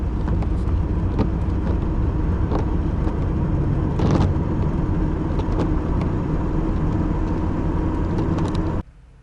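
An old car drives along a road in Russia, its engine and road noise forming a loud, steady drone from inside the cabin that cuts off abruptly near the end.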